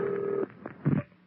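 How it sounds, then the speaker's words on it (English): A telephone rings on a radio call-in show: a steady electronic ring tone, then a couple of short, separate bursts, fairly clear and close with no talk over it. "I think I hear the phone ringing"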